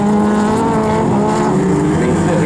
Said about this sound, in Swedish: det är en Janssons bil går på tre cylindrar bara